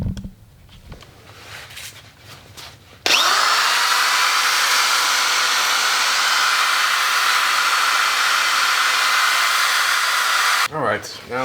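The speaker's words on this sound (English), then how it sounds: "So I'm just going ahead and cleaning up this radiator mount stuff." After a few quiet seconds of handling, a power tool starts up and runs in a loud, continuous high whine for about seven seconds while cleaning a Honda VFR 800 radiator mount, then cuts off and briefly spins up again.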